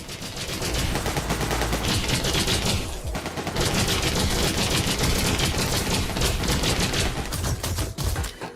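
Rapid, steady streams of bolts fire from a ship weapon in Elite: Dangerous, loud and machine-gun-like, running almost without a break with one brief gap partway through.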